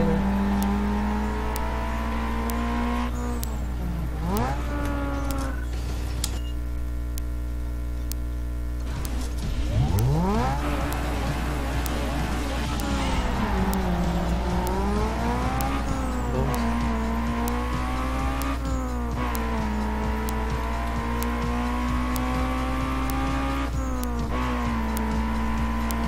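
Race car engines in the Need for Speed Underground 2 video game on a circuit race, loud continuous engine drone that revs and shifts pitch repeatedly, with brief dips and surges as cars accelerate and change gear.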